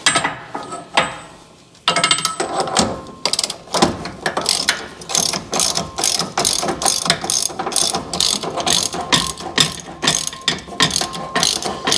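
A 1/2-inch drive ratchet tightens a track bar bolt on a Jeep, giving a rapid run of sharp, close clicking strokes in a steady rhythm, with no talk over it.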